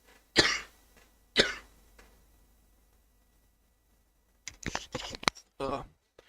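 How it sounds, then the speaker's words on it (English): Two sharp, close coughs from a person about a second apart, followed by quiet and then a few muffled bursts of talk or throat clearing. "I just hate it when I'm coughing"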